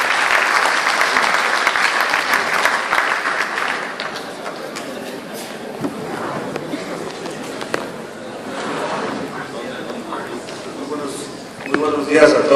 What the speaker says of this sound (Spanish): Con un fuerte aplauso, compañeros